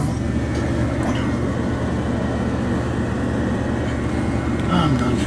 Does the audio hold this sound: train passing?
yes